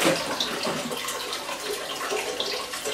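Steady rushing of running water during an aquarium water change, continuous and fairly close, like a tap pouring into a container, with no talking.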